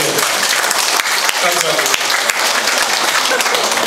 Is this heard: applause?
yes